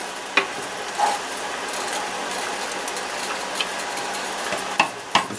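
A pot of water for Hungarian potato pasta simmering on a stovetop, a steady low bubbling hiss with a few sharp clinks and knocks scattered throughout.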